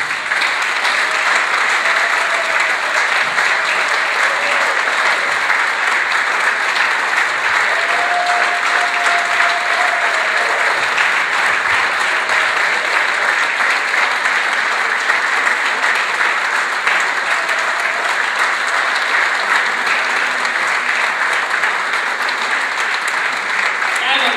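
Sustained, dense applause from a concert audience welcoming a Cologne singer-songwriter, steady and loud throughout with crowd noise and no break.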